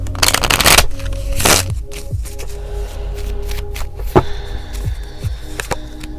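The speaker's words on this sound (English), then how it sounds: "I'm gonna shuffle one more time." Wellness oracle cards are shuffled by hand in two loud riffling bursts, followed by softer taps and shuffles of the deck close by, with no talking.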